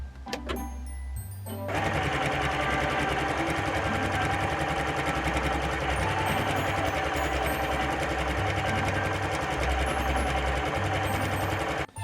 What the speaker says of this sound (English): So I'm going to start sewing things together.